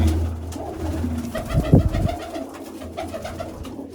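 Pigeons coo close by in a steady low warble, with a short burst of wing flapping in the middle of the clip.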